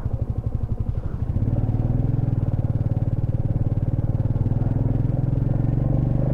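A motorcycle rides a high mountain road on the way over Tanglang La Pass in Ladakh. Its engine runs loud and close with a steady throbbing drone and some clatter. Nobody speaks.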